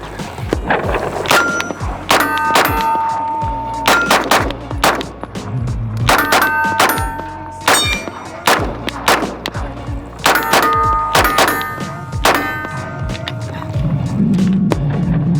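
A Canik TP9 Elite pistol with a compensator fires at steel targets outdoors. Strings of loud, sharp shots are each followed by a ringing metallic ping from the steel, and there is no talk.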